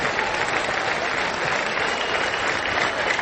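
A college baseball crowd at a Louisville–Miami NCAA Super Regional game claps with two strikes on the batter, a steady, dense wash of applause filling the stadium at even loudness throughout.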